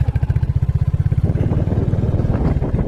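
Motorbike engines and cars idle and move through a crowded temple parking area with wind present, a close, loud, rhythmic engine putter that loosens into rougher mixed traffic noise.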